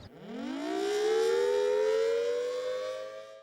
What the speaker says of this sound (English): One final part of your layered approach can be the outdoor warning devices, commonly referred to as the tornado sirens.